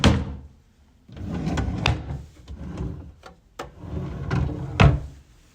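Wooden drawers slide open and shut in a rented room, a series of short scraping rolls and knocks with quiet gaps between them, ending in one sharper closing thud.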